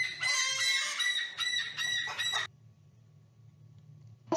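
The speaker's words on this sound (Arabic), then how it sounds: "طائر الكوكاتو" A cockatoo gives a loud, harsh, raspy call made of several quick screeching bursts over about two seconds, then falls silent before one brief squawk at the end.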